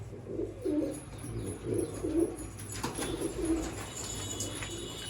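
Pigeons of a prized breed coo in soft, low, rolling phrases that repeat several times close by, with a steady hum of surroundings underneath and no voices.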